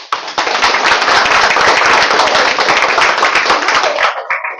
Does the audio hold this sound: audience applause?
yes